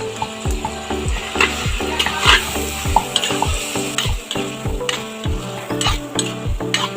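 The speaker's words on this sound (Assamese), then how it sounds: "এতিয়া এনেকৈ ভাজি লৈছোঁ। অলপ ভাজি লওঁ, তেলটো সোমাই লওঁ।" Chicken with spices fries in hot oil and is stirred, with a close sizzle broken by repeated rhythmic scrapes of a spoon against the pan and no talk.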